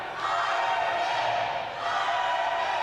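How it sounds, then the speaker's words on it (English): A wrestling crowd at a live indoor match cheers in a steady, loud roar of broadband noise that dips briefly and then swells again, with no clear voices above it. "The crowd is alive for the Iron Man as he elevates Keegan"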